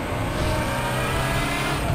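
Audi R18 TDI race car engine revving hard in the RaceRoom racing game at the Nürburgring GP circuit, a loud continuous high roar filling the whole moment without talk.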